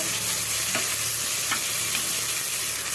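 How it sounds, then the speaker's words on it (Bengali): Spices being stir-fried in a pan over a wood fire, a steady close sizzle with a few soft scrapes of a spoon, no voices. "মশলাগুলো আমি কষিয়ে নেব।"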